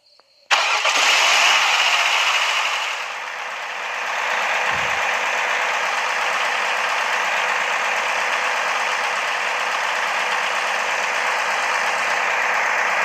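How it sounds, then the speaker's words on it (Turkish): A car engine in the Roblox video game cranks and catches after a click, roaring loudly at first before settling into a steady, even idle that holds on its own for the rest of the stretch. "Yavaştan ilk marşa bir basayım."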